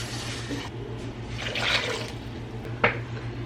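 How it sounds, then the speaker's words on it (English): Water from a container poured into a pot of cranberries, a soft splashing gush that swells midway, with a brief sharper splash near the end over a low steady hum. "So I'm gonna add that same amount of water here."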